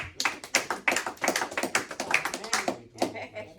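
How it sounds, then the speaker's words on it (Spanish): A church congregation applauds with dense, rhythmic clapping that rises and falls in quick bursts, with voices mixed in. "Dile un aplauso a Cristo"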